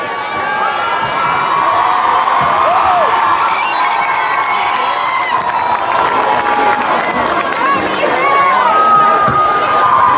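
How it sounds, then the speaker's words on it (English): Home crowd at a high school football game between Franklin County High and East Hamilton High roars steadily, with loud cheering, shouting and chatter filling the stands throughout, no break in the din. "Hurricane home crowd making some noise."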